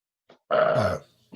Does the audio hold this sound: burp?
yes